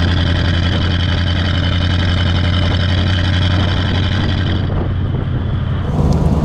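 A 1938 Horch 951 A Pullman Cabriolet engine runs steadily with a deep, even low rumble and some wind noise, close and loud throughout with no talking.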